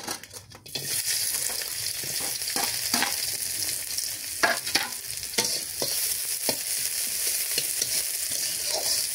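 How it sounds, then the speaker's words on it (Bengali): Onion frying in a pan for a potato curry, a steady loud sizzle with stirring scrapes and a few sharp clatters of the spatula against the pan, close up and without talk. "পেঁয়াজটা একটু ভাজা ভাজা করে নিই।"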